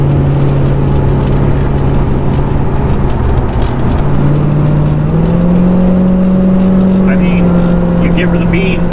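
A 1956 Buick Century engine pulls steadily under acceleration and settles into a cruise, a loud continuous drone with rising pitch shifts, while someone talks over it.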